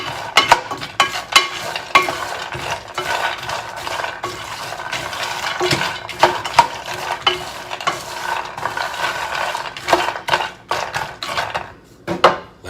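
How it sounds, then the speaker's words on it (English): Nuts stirred around a hot pan with a little fat coating the bottom, giving a steady close scraping and rattling with a soft sizzle that runs without pause to the end. "I want to be able to stir it around just a little bit, kind of coat the bottom of the center of that pan, and then work my nuts through there"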